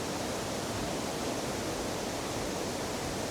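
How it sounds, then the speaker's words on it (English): Waterfall at the Hermitage in Scotland, a dense, powerful roar that stays loud and steady throughout with no other sounds. "here behind me is the waterfall."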